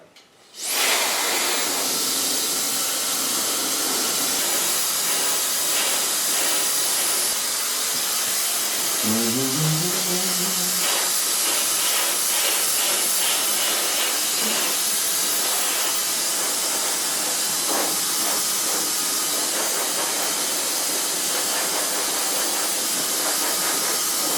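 A hair dryer blows steadily with a loud, constant airy hiss for a long stretch, with faint brushing or handling noises underneath.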